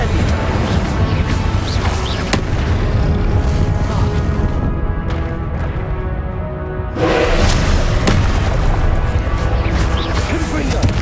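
Spell blasts cast in the game Hogwarts Legacy, loud crashing magical impacts and whooshes in quick succession, with a sharp burst around the middle, under a voice speaking throughout.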